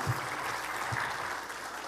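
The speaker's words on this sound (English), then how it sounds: "So let's give Faith another round of applause." An audience at a direct-selling seminar in Manila gives a faint round of applause, a soft, even patter of clapping heard from a distance.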